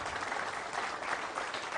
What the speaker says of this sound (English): Round of applause for Wendy Russell